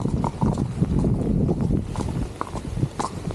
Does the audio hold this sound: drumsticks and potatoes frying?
no